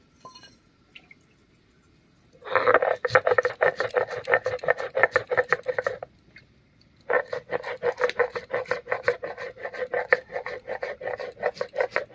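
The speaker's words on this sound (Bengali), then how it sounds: "আমি একটুখানি সর্ষে বেটে নিচ্ছি" About a spoonful of black mustard seeds is ground into paste, making two long stretches of steady, rhythmic rubbing and grinding close by, separated by a short pause.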